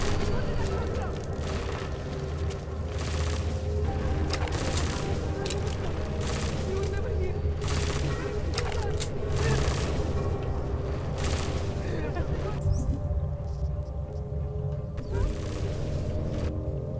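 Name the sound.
gunfire in the video game Deus Ex: Mankind Divided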